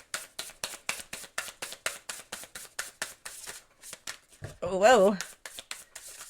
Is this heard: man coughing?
no